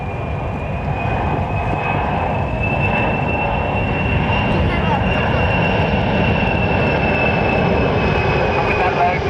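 Large cargo aircraft at an RAF Leuchars air display, a loud continuous engine roar with a high whine, steady and close throughout, mixed with ongoing commentary.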